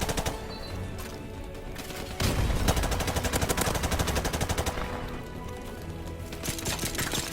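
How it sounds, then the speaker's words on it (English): Rapid hip-fired gunfire from Call of Duty, a loud, dense stream of automatic shots that intensifies midway, with the bursts running almost continuously and no talk. "This is Call of Duty. These guns have recoil, but it doesn't matter. You can just hip fire."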